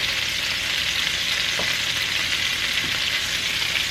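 Mozzarella-stuffed meatballs fry in a pan with a steady, close, even sizzle throughout, broken by a couple of faint knocks as the meatballs are moved around.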